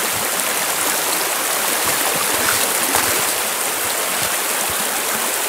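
A shallow stream flows steadily in a continuous close rush of water, with scattered splashes as someone wades through it.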